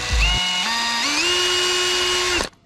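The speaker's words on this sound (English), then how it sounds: "Just attracted by the drill noise," A power drill bores an ice fishing hole, its motor whining in a steady tone that steps upward in pitch as it speeds up, loud and close, then cuts off abruptly near the end.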